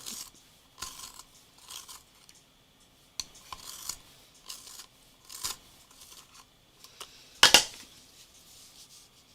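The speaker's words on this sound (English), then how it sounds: "I'm sharpening a pencil." A colored pencil is turned in a sharpener, making short, dry grinding and scraping bursts repeated about ten times with pauses between, close and fairly quiet, ending in one sharper, louder scrape.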